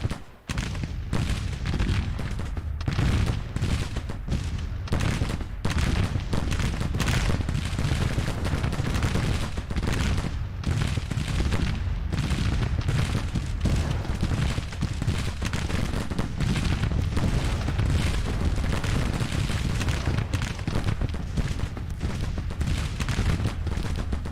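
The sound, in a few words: gunfire and artillery in video game Grand Tactician: The Civil War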